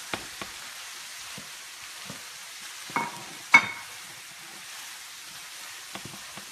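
Lentils cooking in a pan are stirred and scraped with soft, irregular spoon scuffs and a low sizzle, with a couple of sharper knocks against the pan, close and fairly quiet with no talking.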